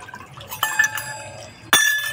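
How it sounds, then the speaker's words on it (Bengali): Water is poured into a wok on a home kitchen stove, arriving in two sharp splashy bursts with metallic clinks between them, close and fairly loud, with no talking. "কড়াই দেব জল।"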